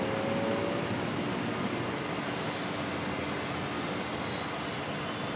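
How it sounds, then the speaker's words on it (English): Jetstar Airbus A320 touching down on runway 01 right at Brisbane Airport, a loud, continuous broadband jet engine rush with a thin tonal whine, fairly close and steady throughout. "Jetstar A320 just touching down"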